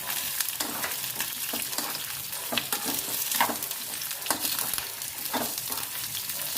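Onions sautéing in a pan for a breakfast tiffin dish: a continuous loud sizzle of frying, broken by scraping stirs of the spatula throughout, with no voices.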